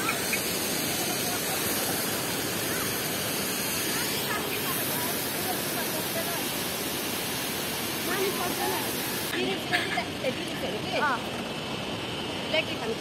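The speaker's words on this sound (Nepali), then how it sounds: "Mini Jharna, mini waterfall." Small waterfall on a rainy-season picnic outing, a steady broadband rush of falling water heard close and loud throughout, with people talking faintly over it.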